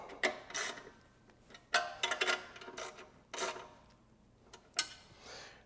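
Bolts being tightened on a gut guard bracket of an Aprilia Tuareg motorcycle with a hand tool, heard as short ratcheting rasps in four or five separate bursts separated by quiet gaps, close and fairly soft.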